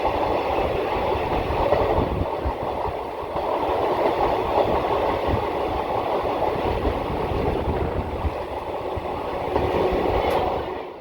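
Train running through the Western Ghats gap between Palakkad and Coimbatore, a steady rolling rumble with faint clickety-clack from the wheels, heard from inside the carriage with no talk.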